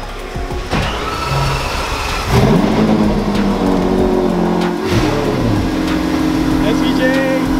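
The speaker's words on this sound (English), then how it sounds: "About to do a cold start on the SVJ." A Lamborghini Aventador SVJ supercar is cold-started at a supercar ride-and-drive event. The engine catches with a sharp bark, then settles into a loud, rising rev and a steady high idle close by, with people's voices faint in the background.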